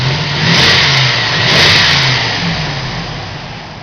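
A Range Rover P38 with the 4.0 V8 revs up twice from idle and settles back down. A hole in its exhaust gives a loud, close, throaty roar.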